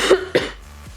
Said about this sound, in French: c'est juste que je tousse parce que je suis un peu malade